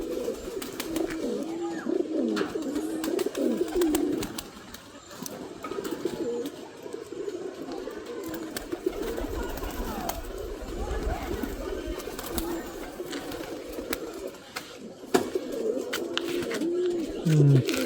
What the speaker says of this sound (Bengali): সব কবুতর কিন্তু খুবই ডাকাডাকি করছে